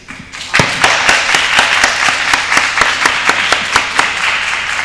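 A handful of people at a Boothbay selectmen's meeting at the YMCA clap crisply and steadily, with sparse individual claps ringing close and clear at an even pace for several seconds, and no talking over them.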